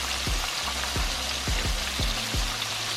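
Mustard-coated chicken frying in hot oil, a dense, continuous crackling sizzle close up, with soft regular thumps underneath the bubbling throughout.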